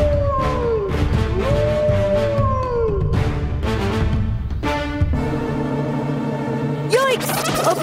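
Wolf howls in a children's cartoon story rise and fall in several drawn-out, wavering cries, mixed with cartoon voices and background music.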